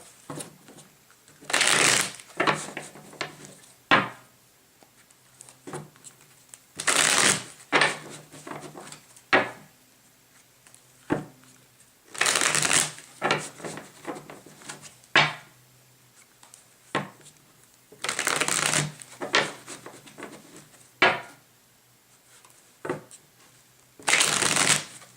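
Tarot cards are shuffled in repeated bursts, crisp riffling flutters separated by short pauses and soft handling clicks, close and clear.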